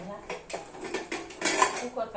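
A hot pressure cooker being lifted out in a home kitchen, with a series of close metallic clanks and scrapes of cookware, uneven and moderately loud, with no talking.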